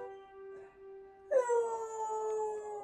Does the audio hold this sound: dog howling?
yes